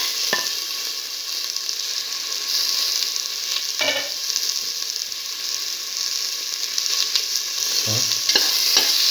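Tomato pieces frying in a pan with potatoes and French beans, continuous close sizzling punctuated by several sharp clacks and scrapes of a utensil stirring, with no speech.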